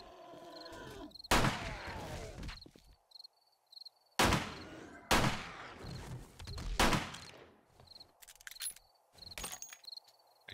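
Gunfire in the zombie survival game 7 Days to Die: several loud, sharp shots a second or so apart, each with a short echoing tail, over a faint steady insect-like buzz from the game's ambience.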